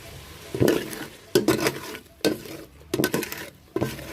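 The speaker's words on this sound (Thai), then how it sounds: "เราค่อย ๆ ช้อนกะทิอะค่ะ ใส่ลงไป ผัดไปเรื่อยๆค่ะ ให้ขึ้นเงาให้หอม" A spoon stirs curry paste and coconut milk in a pot, giving a series of irregular scraping and clinking strokes with soft sizzling between them, close and fairly quiet.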